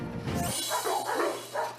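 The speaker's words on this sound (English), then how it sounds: "Huskies are the strong, silent type, but boy, can they howl." A Siberian husky vocalizes in a long, wavering howl of drawn-out tones, rising and falling several times after a brief low rumble at the start. It sounds close and fairly loud, with no talking.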